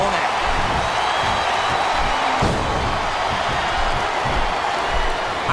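Arena crowd in WWE SmackDown vs. Raw 2007, a dense roaring wash of crowd noise at a constant loud level, with commentators talking over it.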